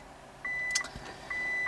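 Two steady electronic reversing beeps from a car left in reverse, each about a third of a second long and evenly spaced, fairly clear over quiet background with a faint thud between them.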